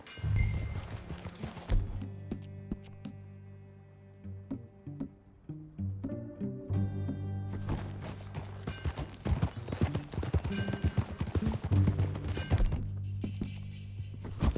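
Horse hooves clip-clop steadily during a ride in the video game Red Dead Redemption 2, a rhythmic run of close hoofbeats under game music throughout.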